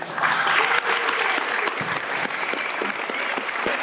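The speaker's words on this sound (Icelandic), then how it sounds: "Enn og aftur ætla ég að fá að kalla eftir klappi og klappa yfir Söru" A room claps for footballer Sara Björk at a Haukar FC press conference, steady sustained applause from a modest crowd with a few sharper individual claps standing out.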